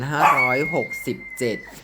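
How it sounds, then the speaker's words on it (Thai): A pet dog yelps and barks at close range in a home. A few short, whiny yips run in quick bursts with brief pauses. "ไม่ต้องตกใจเสียงลูกชายอาจารย์เห่านะคะ"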